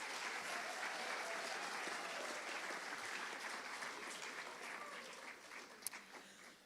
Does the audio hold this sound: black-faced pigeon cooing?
no